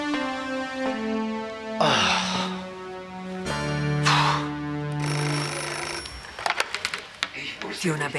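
A telephone rings indoors in a German TV drama scene, a bright repeated electronic ring heard close over music-like tones, with bursts of trilling near the end.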